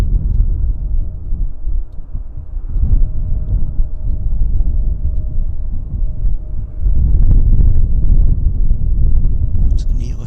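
Strong wind buffets a microphone at Vancouver Airport, a constant low roar and rumble that swells and eases in gusts, with faint aircraft noise mixed into the blustery background.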